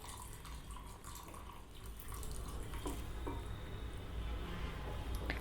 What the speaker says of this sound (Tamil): இப்போ இதெல்லாம் சேர்த்து சுடுதண்ணி ஊற்றி ஒரு 1 ஹவர் ஊற வச்சுருங்க.